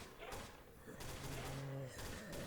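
Gunfire from a saw-type machine gun in the Roblox zombie game Project Lazarus, quiet rapid shots clattering in bursts through the whole stretch alongside faint game noises.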